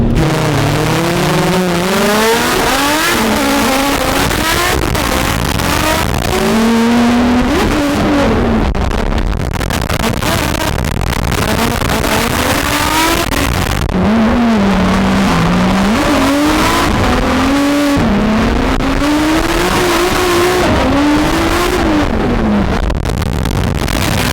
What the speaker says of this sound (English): We're gonna chase this 800 horsepower GT86.